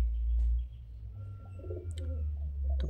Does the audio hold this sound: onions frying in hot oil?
no